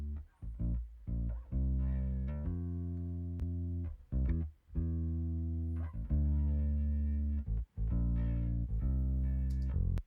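Bass guitar processed through a UAD plugin, plucked notes and short phrases with a full, round low end, close and fairly quiet, with small gaps between lines and no talking.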